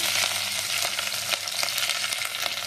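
Onion and curry leaves fry in hot oil with a loud, dense, steady sizzle and crackle, close up and uninterrupted, with no talking.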